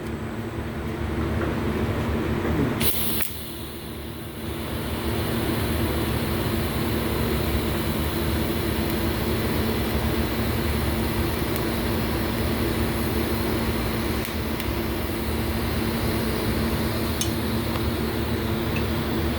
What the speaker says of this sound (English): So I'm going to go ahead and lay beads on here.